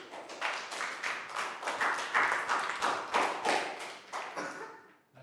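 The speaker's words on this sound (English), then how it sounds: "Big high five and a round of applause for Pak Bung." A small group of Year 3 students clapping in a classroom during a math lesson, fairly close, with quick uneven claps in bursts that fade out near the end.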